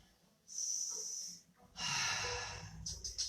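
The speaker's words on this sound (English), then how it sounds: "3 more breaths. Inhale and exhale." Yoga breathing, with one long audible breath in, a pause, then a fuller breathy exhale, close and unaccompanied, followed by a short quieter breath.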